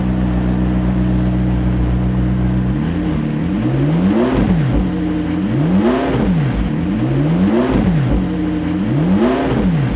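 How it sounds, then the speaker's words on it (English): McLaren engine idling with oil pressure concerns, then revved in five or six short, even blips that rise and fall in pitch, loud and close. "See what happens if I push the gas a little bit."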